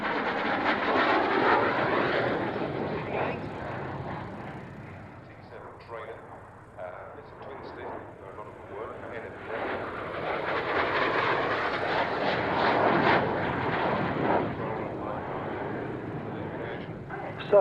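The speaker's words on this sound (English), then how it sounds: "Maurice, not another aircraft going to the USA." An aircraft passes overhead under a clear blue sky. Its broad, rushing engine roar swells, fades slightly mid-pass, then builds again, with people talking over it.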